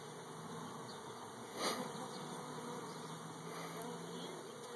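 Honeybees hum around a swarm box, a faint, steady buzz with one bee passing close for a brief louder swell, recorded outdoors with no talking.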